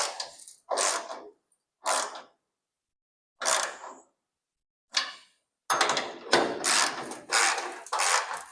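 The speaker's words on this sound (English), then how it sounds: "Now I'm going to tighten everything back up." Ratchet tightening bolts on a 1964 Ford Falcon door, heard as several short bursts of rapid clicking separated by pauses, then longer, denser ratcheting runs toward the end, fairly close with no talking.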